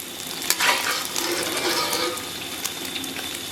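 Beaten egg hits hot oil in a wok and fries with a steady broadband sizzle, a brief louder burst near the start as it goes in, then continuous crackling at close range with no talking.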